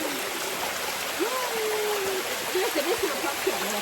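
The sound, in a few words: Christian Valley waterfall flowing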